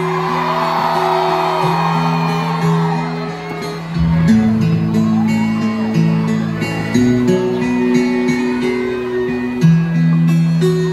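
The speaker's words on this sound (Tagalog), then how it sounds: "Isang malaking hiyaw!" A rally crowd for Duterte in Davao shouts and whoops with long sustained cheers that rise and fall, loud and close, with voices yelling over the roar throughout.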